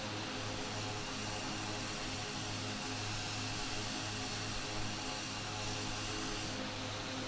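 Steady drone of a plane's engine in a flight simulator, flying near the Needles; a continuous, even hum with broadband rush, no voices.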